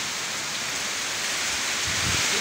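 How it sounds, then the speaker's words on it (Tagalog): Heavy rain and wind from Typhoon Kristine, a dense steady roar of downpour and gusting air, loud and continuous with no voices. "Kitang-kita dito yung hangin ng ulan."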